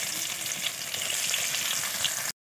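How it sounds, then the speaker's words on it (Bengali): Two large chopped onions hitting hot oil with cumin seeds in a pan, giving a loud, steady, dense sizzle that keeps going without a break and then cuts off abruptly near the end. "এবার এর মধ্যে আমি দিয়ে দেবো 2 বড় সাইজের পেঁয়াজ কোচানো"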